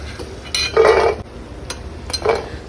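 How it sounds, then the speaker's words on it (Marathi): Cashews roast in ghee in a pan as a spoon scrapes and clinks against the metal in two short bursts, with a soft background hiss. "सुरुवातीला एक वाटी काजू मी छानपैकी परतून घेते"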